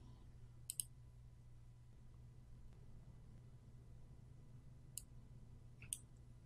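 Sharp mouse clicks, a single pair near the start and two more toward the end, sit over a steady low hum from a computer, with no talk.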